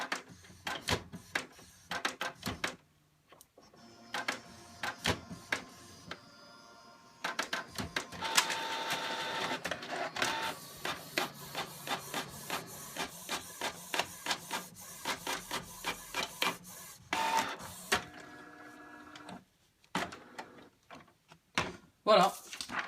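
Inkjet printer printing a page in black ink, fitted with a cheap one-euro ink cartridge: repeated mechanical whirring passes and clacks in bursts, with brief pauses and sharp clicks as the paper feeds and ejects, loud and close.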